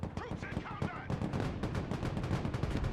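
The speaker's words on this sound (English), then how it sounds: "Oh, the Bradley taking a shot." A Bradley vehicle fires in the Broken Arrow video game as a rapid burst of gunshots. The shots are steady and fairly loud, with battle noise and speech mixed in underneath.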